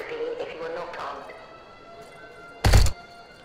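A door is kicked in inside the SpaceBourne 2 video game: a single loud, blunt thud lands near the end, after a stretch where a player talks quietly over faint game ambience.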